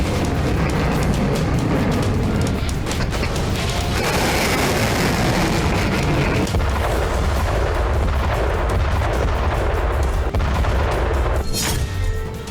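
An Agni-5 ballistic missile launches with a loud, dense, continuous roar that fills the whole stretch without a break.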